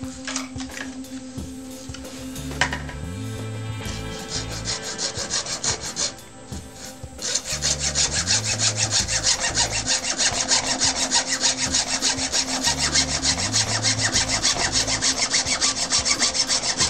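A hand saw cuts through material for a rubber band powered car with steady back-and-forth strokes, rasping loudly and close up in a repeating rhythm.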